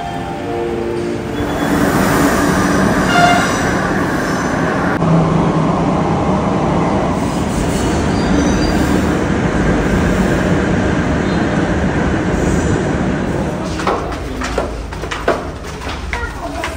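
A metro train in Kolkata rumbles steadily nearby for a long stretch, a loud continuous roar with brief higher whines, ending in a cluster of clanks and clicks as it settles at the station.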